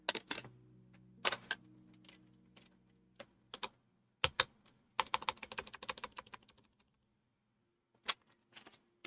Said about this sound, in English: let's put some keycaps on.